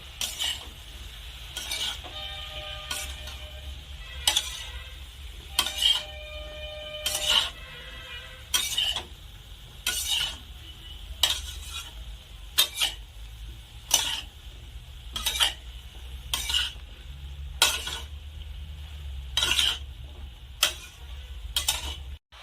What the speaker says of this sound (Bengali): এখন আমি কষা মশলা ভালো করে নেড়ে চেড়ে শালুকের সাথে মিশিয়ে নেব।